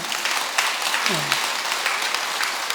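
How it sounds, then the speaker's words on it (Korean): Audience at a Buddhist dharma talk at Jogyesa temple applauding, a dense steady patter of clapping with a voice briefly heard over it. "박수 치라 그러니까 박수 치고 어째 그래 됐노?"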